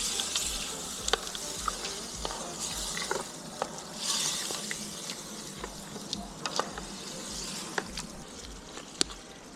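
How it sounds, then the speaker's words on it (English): Meat frying outdoors in a pan with spice sizzles steadily, with crackling pops and spits scattered throughout, close and continuous. "Already starting to sizzle."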